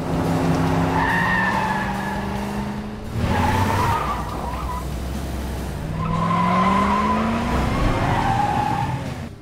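Cars in a film chase scene skid with long, loud tire squeals that rise and fall in pitch over steady engine roar, with a brief lull before a second sustained squeal.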